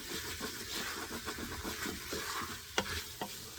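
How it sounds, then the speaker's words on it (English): Vegetables sizzle in a pan as chili powder is stirred in, a steady frying hiss with scraping stir strokes and a couple of sharper clinks from the utensil, close and fairly loud. "you can add a little bit of chili powder. And just stir it and let it cook for a minute or two."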